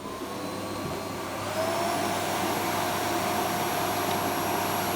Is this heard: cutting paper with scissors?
no